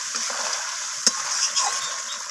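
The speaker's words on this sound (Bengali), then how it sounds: "গরম মশলাটা দিয়ে নাড়াচাড়া করে মিশিয়ে নিলাম" Garam masala stirred into an egg curry with oil floating on top, a soft sizzle running throughout while a spoon scrapes and taps the pan a few times; no voices.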